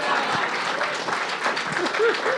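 A live podcast audience breaks into steady, loud applause and clapping, a continuous wash of many hands with a few scattered voices and whoops mixed in.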